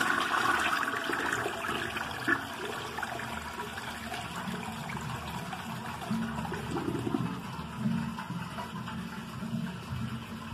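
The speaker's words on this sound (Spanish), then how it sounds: "Vamos a entonces a bajarle a la taza." A toilet flushes in a bathroom just after its bowl was descaled, giving a steady, fairly faint rush of water that runs the whole time with no talking.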